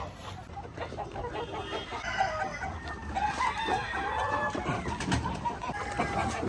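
Blue Orpington pullets and other chickens on a farm, with steady clucking and a rooster crowing amid a busy, continuous backdrop of fowl calls, fairly close and moderately loud, with no talk.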